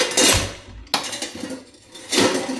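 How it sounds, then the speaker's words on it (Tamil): A clay pot is set down on a stove with clattering scrapes and knocks, two bursts of contact with a quieter rattle between them. "மண் சட்டி வைக்கிறோம் இன்னைக்கு புளிக்குழம்புக்காக"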